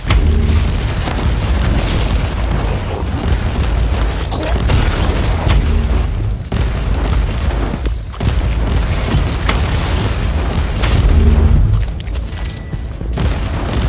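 Sniper shots and heavy booms from combat in the Warhammer 40,000: Inquisitor - Martyr game, a dense, loud barrage of blasts and mechanical clatter running throughout with no pauses.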